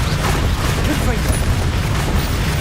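A Confringo blasting spell in Hogwarts Legacy lands as a heavy, rumbling boom. The explosive roar fills the whole short stretch at close range.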